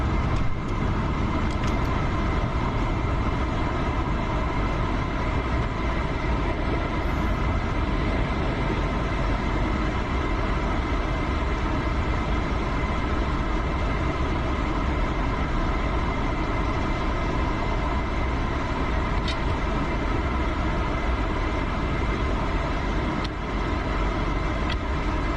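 Engines of an F-14B Tomcat running during a cold start in the DCS flight simulator, a loud, steady drone that holds unbroken for the whole stretch with no voices over it.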